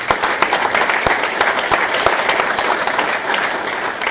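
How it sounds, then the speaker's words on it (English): A conference audience breaks into loud, dense applause for donors to a Drupal initiative, with a few sharper individual claps standing out near the listener. "I want another round of applause for everybody who gave to this initiative"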